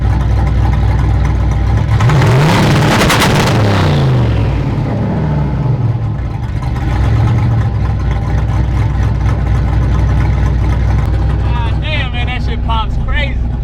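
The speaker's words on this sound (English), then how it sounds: "hit a little two-step real quick" A 2JZ engine swapped into an OBS Chevy single-cab truck idles loud and close, then holds high on two-step launch control with a burst of rough revving and popping, while someone talks over it.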